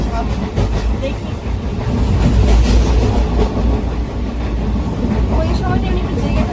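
An inside view of a moving train: a continuous loud rumble with rhythmic clatter of the carriages, steady throughout, while voices talk over it in the compartment.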